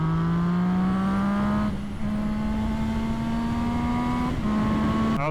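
A naked motorcycle with a flame-spitting exhaust accelerates away in a steady, loud rising engine note, a brief dip in the middle as it shifts, then climbing again alone.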